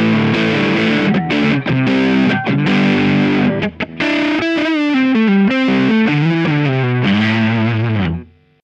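Distorted electric guitar on a Sire S7 with Lace Sensor Gold pickups, loud, with choppy strummed chords followed by a melodic run, ringing out briefly before cutting off.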